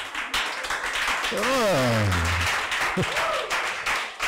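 A church congregation at a French-language teaching service clapping and cheering continuously, with a loud voice exclaiming and shouting over the applause throughout.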